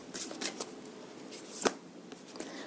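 Tarot cards being shuffled in a series of quick papery riffles and flicks, close and fairly soft, with no talking.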